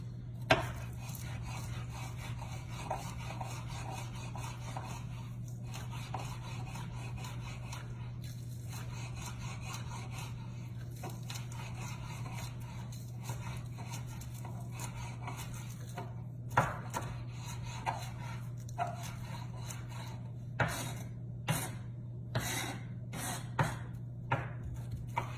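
A knife dices onion on a cutting board for elk chili, giving a steady run of light taps over a constant low hum, ending in sharper, more spaced chops.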